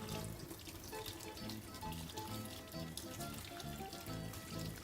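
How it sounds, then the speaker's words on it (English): Tap water runs steadily into a kitchen sink while chili pieces are rinsed under it, a faint continuous splashing with no break. "we're going to just quickly rinse those under the sink"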